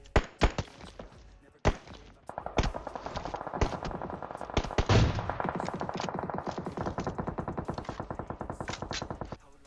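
Rapid automatic gunfire from a bot in a PUBG-style shooter using AUG and AWM weapons, starting with a few sharp separate shots, then a loud, steady stream of bursts that keeps going to the end.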